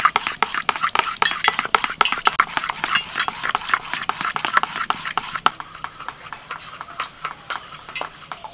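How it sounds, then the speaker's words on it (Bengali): Malpoa batter being mixed with fried fennel seeds and ghee in a bowl, with a quick, steady run of scraping, clinking strokes that eases into slower stirring toward the end. "এবার ব্যাটারের সাথে মৌরি আর ঘিটাকে ভালো করে মিশিয়ে নেব।"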